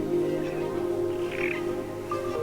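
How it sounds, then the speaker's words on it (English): Birdsong rises along a riverbank in the Khwai area of Botswana, where a red-billed hornbill calls from a dead tree; scattered chirps and a brief clear call sit over a steady ambient hum. "A red-billed hornbill is singing in a dead tree just above us"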